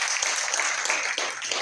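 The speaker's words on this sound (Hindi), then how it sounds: "तालियां बजा सकते हैं अपने" Trainees at a factory leadership training session in Alwar give a dense burst of applause that holds steady and fills the room.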